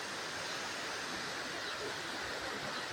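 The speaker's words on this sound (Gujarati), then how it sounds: "ખળખળ ઝરણા વહી રહ્યા છે." Flowing streams gurgle at the Galdhara Khodiyar temple near the Shetrunji river, a constant broad hiss of moving water holding steady throughout, fairly near, with no talk.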